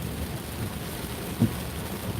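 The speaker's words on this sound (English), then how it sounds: "but it's raining" Steady rain falls outdoors as a quiet, even hiss throughout, with one brief low thump partway through.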